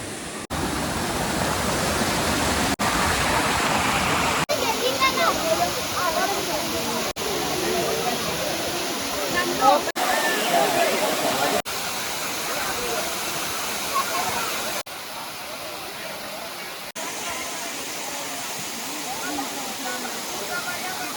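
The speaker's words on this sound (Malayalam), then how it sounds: "വെള്ളച്ചാട്ടത്തിൻ്റെ അടുത്തേക്ക് നടന്ന് നീങ്ങുമ്പോൾ തന്നെ നമുക്ക് വെള്ളം ചാടുന്ന ശബ്ദം കേൾക്കാം" Paloorkotta waterfall in Kerala, a two-tiered fall about five hundred feet high, sends out a steady broad roar of falling water that holds constant throughout, loud and unbroken.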